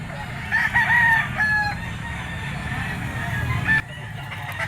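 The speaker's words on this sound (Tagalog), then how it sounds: "Yellow legged Bull stag mga tol." A yellow-legged bull stag rooster crows at a gamefowl market, a couple of short, clear calls near the start that stand out over constant crowd chatter and clucking.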